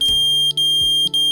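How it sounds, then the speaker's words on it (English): An iFlight heated battery case sounds its low-voltage alarm, a loud, shrill electronic tone that pulses in short repeated beeps with brief gaps, close and steady over a faint background hum. "I can show you a quick demo of the voltage alarm in action"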